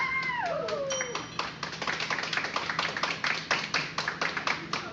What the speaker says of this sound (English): Thanks for the round of applause, guys.